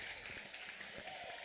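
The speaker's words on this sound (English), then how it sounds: "This round of applause here by the Bison faithful." Crowd applause from Bison home fans at a high school basketball game in McCook, a steady broadband wash of clapping and crowd noise throughout, heard at a moderate distance.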